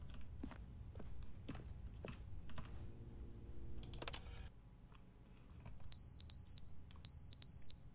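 Smoke alarm chirping its low-battery warning in a quiet room, two pairs of sharp high beeps near the end, preceded by soft keyboard tapping, clicks and a faint hum.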